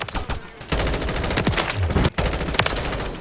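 Rapid automatic gunfire in Call of Duty Modern Warfare 3 with the JAK Patriot, dense loud bursts of shots with a short pause near the middle, close and continuous.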